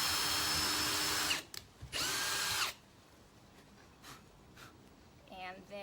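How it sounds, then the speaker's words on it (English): A power drill bores pilot holes into a rustic wooden shutter in two loud bursts of whirring, then stops, leaving quiet handling noise and faint movement. "So with your little gun here, just get them holes pre-drilled."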